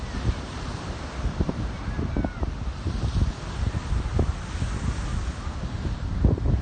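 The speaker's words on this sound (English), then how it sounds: "I don't even know if you guys can hear me because the wind is very strong out here." Strong gusty wind on an ocean shore after a storm roars and buffets the microphone in uneven bursts, with surf rumbling underneath.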